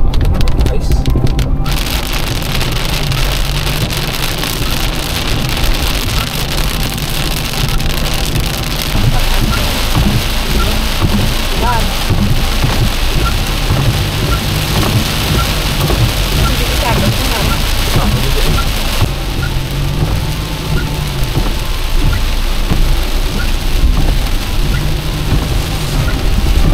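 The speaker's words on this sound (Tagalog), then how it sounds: "dito bumuhos yung napakalakas na ulan" Heavy rain pours down in Negros, a dense continuous hiss and patter of drops on surfaces lasting the whole stretch, loud and close, with faint low rumbles in the background.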